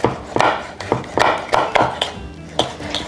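A knife chops vegetables on a board in quick, regular strokes, about ten crisp thuds in three seconds, close and clear with no talking.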